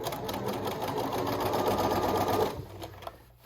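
A sewing machine edge-stitching the crown of a fabric bucket hat, a steady close whirring hum running for a couple of seconds before slowing and stopping.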